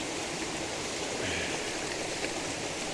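Waterfall in a mountain wilderness, its water splashing and rushing as a constant broadband roar, loud and close, with no talking.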